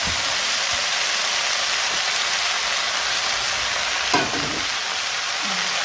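Wild field saag greens and flowers fry in a pan with a loud, dense, continuous sizzle like steady rain, with one brief scrape of stirring near the end.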